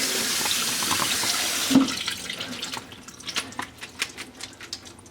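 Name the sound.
water running from sink tap while rinsing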